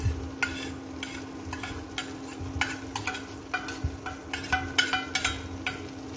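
Minced garlic sizzles in melted butter in a pan, a steady low fry with a faint hum beneath and frequent sharp scrapes and taps of a utensil stirring, close and moderately quiet.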